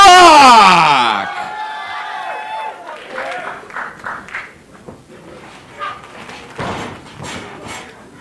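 Crowd of fans at a professional wrestling tag team match roaring and cheering, loud at first and then settling into a rowdy, fluctuating din with scattered shouts and claps.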